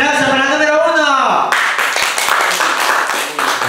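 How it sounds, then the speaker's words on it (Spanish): Children in the audience at a Children's Day event in an urban child welfare center break into dense, fast clapping that continues steadily to the end, after a speaking voice at the start. "Aplauso para número dos."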